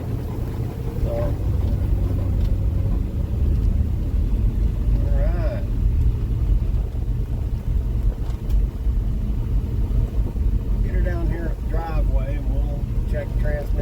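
A 1965 Dodge Dart 270 drives across a pasture, its engine a steady low rumble that holds throughout, with people talking over it now and then.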